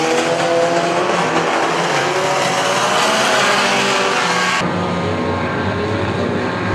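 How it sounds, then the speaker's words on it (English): Stock cars racing at Arena Essex during a crash-filled final, with a loud, continuous roar of engines close by and rising and falling revs, no distinct impact standing out. "Oh, and then he gets a huge T-bone from 341 Jonesy."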